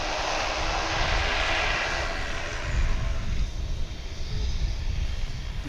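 A Boeing 777-223ER airliner lands at DFW International Airport after a long flight from Honolulu, its engines making a steady, loud roar that swells slightly midway and rumbles on without a break.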